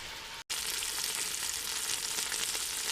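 Tomato gravy cooks in a pan with a steady hissing sizzle, briefly cut off near the start, then continuing evenly and fairly quiet.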